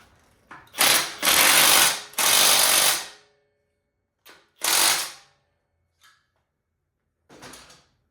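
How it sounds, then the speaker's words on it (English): A ratchet tightening the rear axle of a Janus Halcyon 250 motorcycle, heard as loud, close bursts of rapid clicking in several separate strokes with pauses in between. "So at this point, I'm going to tighten up the axle."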